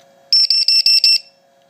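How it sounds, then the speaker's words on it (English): An RC battery voltage checker sounds its low voltage alarm as five quick, loud, shrill beeps in an even rhythm, close up, then stops, with no talking. "Plug in the voltage checker and the alarm, how it works."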